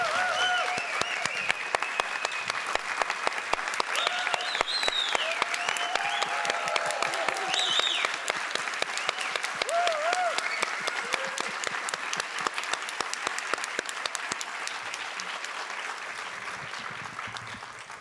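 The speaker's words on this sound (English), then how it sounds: "Can we have one last great round of applause" An audience at a distinguished alumni ceremony claps in a long, sustained round of applause, dense and steady for the whole span, slowly tapering near the end, with a few faint voices and cheers under it.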